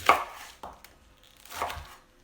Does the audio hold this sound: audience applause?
no